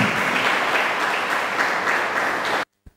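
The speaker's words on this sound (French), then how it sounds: "Acclamez Dieu pour sa vie." A church congregation breaks into sustained, dense applause that fills the space evenly, then cuts off abruptly, leaving near-silence with one faint knock.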